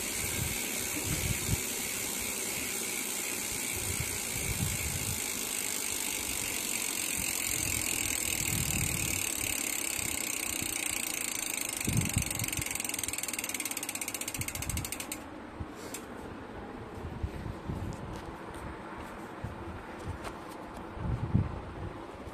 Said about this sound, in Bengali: আপনি যদি হাবের সাউন্ডটা শুনতে চান আমি সাউন্ডটা শুনিয়ে দিচ্ছি।